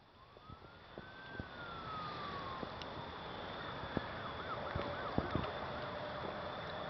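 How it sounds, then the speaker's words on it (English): Emergency vehicle siren at night near public housing projects in Kinston, heard faint and distant, its wail rising and falling and then warbling quickly, under low steady background noise with a few faint clicks. "I hear a goddamn siren!"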